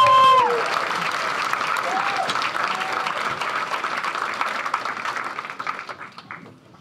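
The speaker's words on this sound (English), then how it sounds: "Big round of applause for Cristine Peterson." Audience applause at a comedy show, a loud burst of clapping and crowd noise that begins right after a brief musical sting and slowly tapers off over several seconds.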